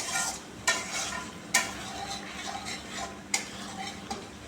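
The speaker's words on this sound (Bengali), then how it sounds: "কি সুন্দর ফুটছে দেখুন।" Tomato masala bubbling and sizzling in a pan, a steady close hiss broken by a few sharp spatula scrapes, with no voices.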